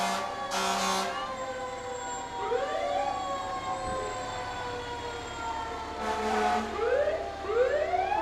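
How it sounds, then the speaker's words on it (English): Fire engine sirens wail through town in a holiday parade in Beaver Dam, rising and falling sweeps from several trucks overlapping at steady loudness, with short horn-like blasts near the start and again later. "You can hear all the rescue trucks sliding through town."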